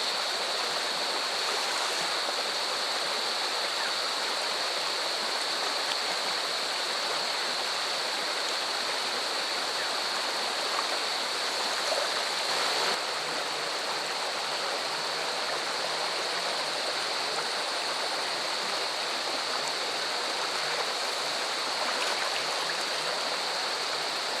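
A river stream rushes steadily in an outdoor setting, a dense, even hiss of flowing water that stays constant and close throughout with no voices.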